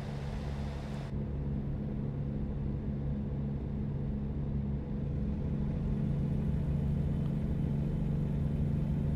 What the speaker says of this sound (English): the engine sound level is not too high